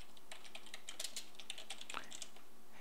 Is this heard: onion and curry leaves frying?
no